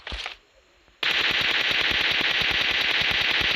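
Rapid automatic gunfire sprays in a video game after a brief pause, a dense, loud, continuous burst of closely spaced shots.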